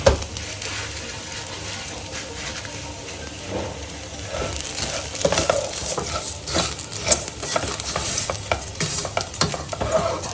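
Rice sizzles and fries in ghee in a pan while being stirred, with a continuous crackling hiss and irregular scraping knocks from the stirring, fairly loud and close.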